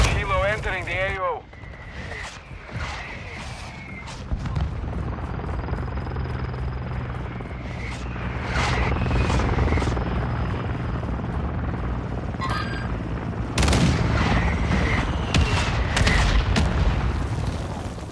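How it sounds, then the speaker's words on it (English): An Overwatch helicopter arrives in Call of Duty Modern Warfare II multiplayer, its rotor thrum building steadily over some seventeen seconds amid booms, sporadic gunfire and radio voice callouts. "The Overwatch helo entering the AO."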